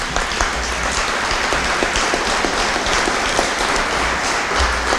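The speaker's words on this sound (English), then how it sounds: "Let's give them a round of applause." An audience gives a sustained round of applause at an indoor celebration for the approval of a regional medical center, with steady, dense clapping that stays loud and even from start to finish.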